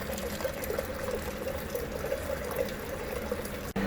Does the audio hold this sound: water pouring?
yes